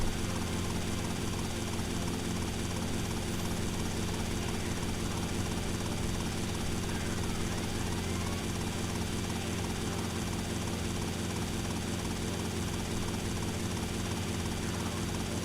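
A police helicopter in the GTA video game flies close overhead, its rotor and engine making a steady, loud whirring drone that never lets up.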